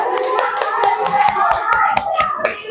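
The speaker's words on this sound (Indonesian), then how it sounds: "Kasih tepuk tangan dulu." A small group in a school classroom claps rapidly and continuously for a few seconds, fairly close, with a voice faintly underneath.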